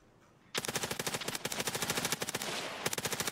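Automatic gunfire in Escape from Tarkov starts suddenly after a quiet moment and runs as a long rapid rattle, sharp and steady, with no talk over it.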